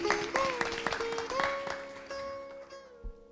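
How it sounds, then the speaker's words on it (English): A Sunday service congregation applauds to welcome a guest: scattered clapping that starts strong and thins out, under sustained tonal music or singing. "So let's give him a big round of applause and welcome him this morning."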